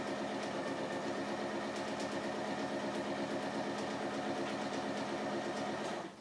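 A sewing machine runs a simple running stitch along fabric, its motor humming in a steady, fast mechanical rhythm close by, unbroken until it stops near the end.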